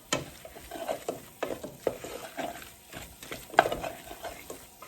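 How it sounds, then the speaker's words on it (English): Curry powder and turmeric cooking down in a pot for Caribbean curry goat, with soft stirring scrapes and a low, steady sizzle that keeps on throughout, nearby and moderately quiet. "I'm just letting my curry and my turmeric to cook down."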